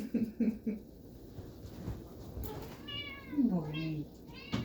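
Léo, a pet cat, lets out several close meows, short and drawn-out, mixed with soft whispered talk nearby.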